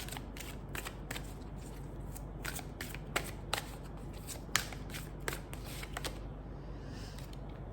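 Oracle cards are shuffled and drawn nearby. Soft, papery riffling and flicking repeats irregularly, with a few sharper snaps as single cards come off the deck, all quiet and close.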